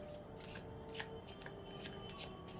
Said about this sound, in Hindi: जब तक मैं कार्ड शफल कर रही हूँ